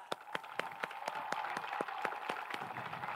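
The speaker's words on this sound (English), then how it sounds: "Let's give them all a round of applause." Audience applause at a high school commencement ceremony: a steady bed of clapping with sharp, evenly spaced claps that stand out above it, rhythmic and moderately distant.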